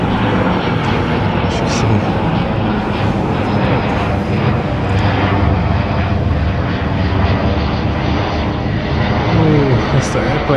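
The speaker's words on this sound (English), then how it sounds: "So there's only a little airplane flying through." A propeller plane drones steadily overhead, a loud continuous engine rumble filling the whole stretch, with someone speaking beneath it.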